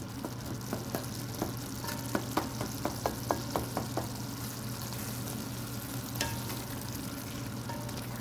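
Goat brain masala fries in a pan while a spoon stirs it, a soft continuous sizzle broken by a run of sharp metallic scraping taps against the pan, then the sizzle carries on alone.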